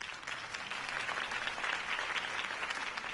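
A crowd in the video game Batman by Telltale claps and cheers steadily throughout, a dense continuous wash of applause with no speech over it.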